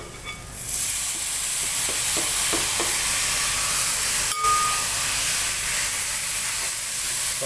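Tomatoes hit a pan of sautéed onions and curry leaves, raising a loud, steady sizzle with a few stirring scrapes. It is close and continuous, with no talking.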